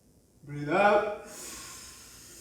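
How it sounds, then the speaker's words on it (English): A person exhales slowly and steadily during a pelvic-floor breathing exercise, a soft breathy rush that follows a brief spoken instruction and trails on for about a second. "Breathe out."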